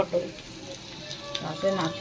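Bengali curd-fish spice paste sizzling and being stirred in a pan, a soft continuous frying hiss with a few brief clinks and scrapes, fairly quiet and close.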